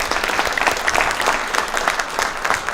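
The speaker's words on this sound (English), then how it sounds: "Let's give him a big round of applause for." A crowd applauds steadily, a dense patter of clapping hands that holds loud and even throughout.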